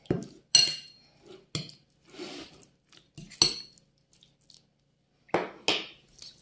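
Liver being mixed with flour in a bowl, giving scattered clinks and scrapes of a spoon against the dish in short irregular bursts, close and moderately loud, with quiet pauses between.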